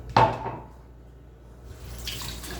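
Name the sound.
washing hands under running tap water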